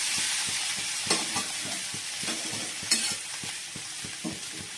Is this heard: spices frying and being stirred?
yes